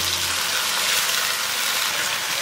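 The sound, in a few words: pouring sauce mixture into the wok with eggplant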